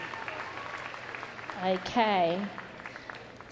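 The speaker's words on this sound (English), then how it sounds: "Give them a big round of applause." Audience applause at the Crufts 2014 rescue dog agility event, a steady crowd clatter spread through the arena while a voice speaks briefly over it.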